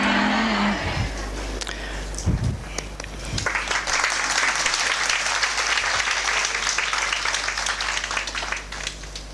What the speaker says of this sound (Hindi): एक दो हाथों ने ताली बजाई